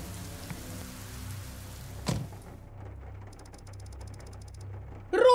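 Video game rain falling steadily in a soft hiss under a low droning hum, with a brief sharp mechanical clatter partway through and a louder sound burst at the very end.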